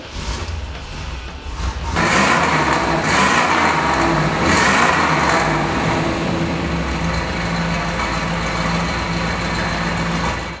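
A matching-numbers Hugger orange 1969 Chevrolet Camaro RS/SS convertible cranks and fires up, then its V8 roars through sustained revving before settling into a loud, rough idle close by.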